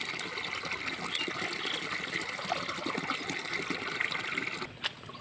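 Water running out through a drain pipe from a dam in a village, a steady close trickle and splash of flowing water that holds evenly, with a short knock near the end and no talking.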